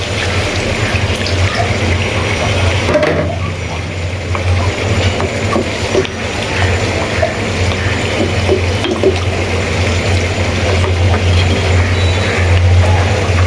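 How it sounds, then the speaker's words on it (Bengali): Water is poured into a pot of chicken curry to make the gravy. It makes a steady, close rushing splash that lasts the whole time over a low, constant kitchen hum. "আমি এখন পানি দিয়ে দিচ্ছি ঝোলের জন্য"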